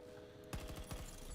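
Rapid automatic gunfire in the Battlefield 2042 video game, a quick burst of several shots starting midway and rattling on steadily, moderately loud with no voices.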